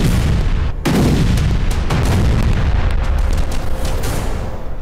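Bombing explosions in areas bordering Israel: a loud, sustained wall of heavy rumbling blasts and crackling booms, with one sharp impact near the start and dense low-end roar throughout, no voices.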